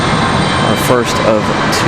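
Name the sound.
Mountain Air Cargo ATR 72 turboprop plane arriving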